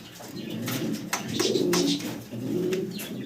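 Caged pigeons at a farm coo close by in several repeated soft, throaty phrases, one after another, with no talking.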